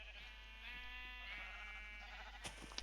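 A sheep bleats in a modded Minecraft game, a faint wavering cry that rises and falls over a steady low hum, followed by a brief click near the end.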